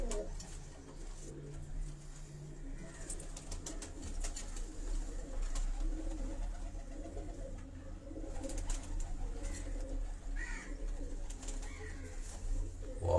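Kabuli high-flying pigeons coo steadily inside a cage on a Karachi rooftop, soft repeated rolling calls layered over a constant low background rumble, with no talking.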